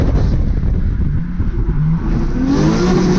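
A Toyota Cressida drift car holds a controlled slide, its engine revving loudly and close, dipping briefly before climbing again in pitch toward the end.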